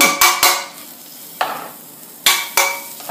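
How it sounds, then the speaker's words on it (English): Butter hitting a hot pan just used to sear steak for steak au poivre, giving several short, sharp sizzling bursts separated by quieter crackle, close and fairly loud. "I'm going to put a little butter in there."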